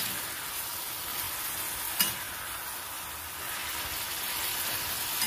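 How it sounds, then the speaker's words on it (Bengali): Cauliflower frying in mustard oil with chopped green chillies gives a steady, close sizzling hiss that runs throughout, broken by a single sharp clack of a utensil partway through. "এটাকে আমি ফুলকপিটাকে একদম ভাজা ভাজা করে নামাবো"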